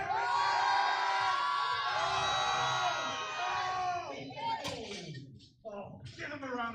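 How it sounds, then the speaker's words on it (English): Crowd cheering and whooping for a 93kg powerlifter's attempt at a university powerlifting championship, loud and sustained at first, then breaking into scattered yells and shouts near the end, with an announcer's voice running under it. "give him a round of applause"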